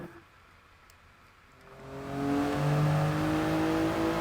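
Toyota GR Yaris engine in Gran Turismo Sport, a quiet start that swells into a loud, steady rev with rising whine as the car accelerates, alone without talk.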